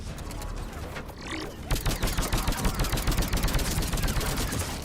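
Sniper rifle and automatic gunfire in the shooter game Mass Effect 3 on Insanity difficulty, a steady run of close, rapid shots with dense battle noise behind it and no voices.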